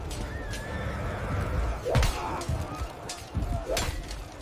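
Horses neigh and whinny amid a cavalry battle effect, two or three sharp whinnies rising over rumbling battle noise, with faint narration beneath.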